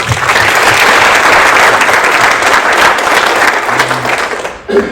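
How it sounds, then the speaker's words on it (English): An audience at a hate crime summit applauds its panelists, loud sustained clapping from a full room that fades out near the end. "Can we get a little round of applause for our panelists?"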